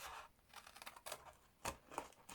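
Scissors snipping designer series paper up to a score line while making a gift box, a few faint, close crisp cuts spaced irregularly over a soft background.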